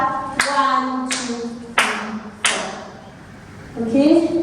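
Hand claps in a beginner dance routine to Moana's Logo Te Pate, four crisp, evenly spaced claps close by, with a voice or tonal sound carrying underneath.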